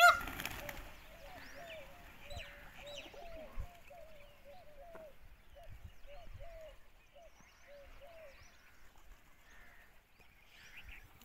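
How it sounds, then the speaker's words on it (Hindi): Birds call in a quiet outdoor spot while a peacock and pigeons peck at grain: a run of short, repeated clucking notes, then sparser calls and faint chirps, soft and mid-distance, with brief rustles and flapping early on. "आप सुन रहे हैं परिंदों की मीठी मीठी आवाज़ें।"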